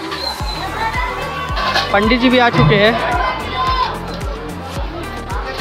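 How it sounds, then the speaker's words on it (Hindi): Crowd of people chattering at a Ganesh Chaturthi puja on a busy Wednesday, a steady murmur of many voices with rhythmic thuds beneath, while a person speaks clearly up front. "तो बहुत भीड़ है ना आज।"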